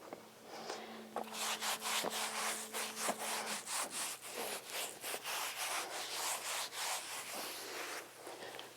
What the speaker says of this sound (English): on his back, I'm going to go ahead and rub with the mitt